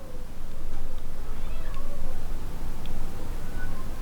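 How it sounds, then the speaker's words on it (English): A cat meows a few times, faint and somewhat distant, over a steady low background hum. "Sorry if you can hear my cat meowing."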